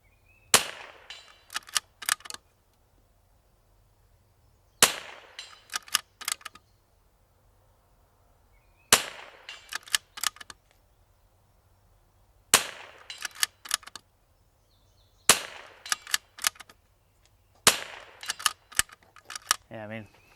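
Rifle shots fired outdoors on a range with a precision chassis rifle, sharp cracks in six evenly spaced bursts, each followed by brief rattling echoes, with quiet gaps between.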